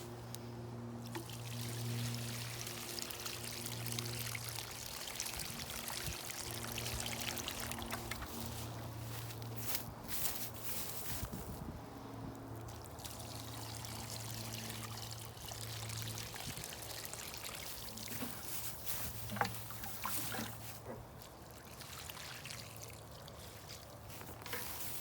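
Liquid plant food poured onto container-grown vegetable seedlings such as bush beans and cucumbers, a soft, steady trickle and splash running on for a long stretch beneath a constant low hum, without speech.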